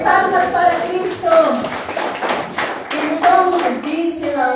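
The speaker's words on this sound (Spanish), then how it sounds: "¡Palmas para Cristo!" A church congregation claps hands in a steady, brisk rhythm of many overlapping claps, with voices singing or calling out over it.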